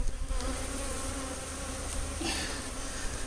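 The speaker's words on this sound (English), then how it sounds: "Just gonna shake those bees off in there." Honeybees from a package hive drone in a dense, steady buzz as they are shaken into a hive during installation, a continuous close swarm hum with no talking.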